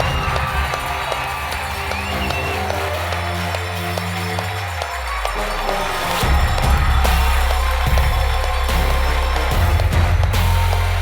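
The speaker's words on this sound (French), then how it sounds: "de nous rejoindre sous des tonnerres d'applaudissements" Crowd cheering and applauding at the Chronos d'or 2022 awards ceremony, a loud, continuous roar of clapping and shouts that swells partway through, with music underneath.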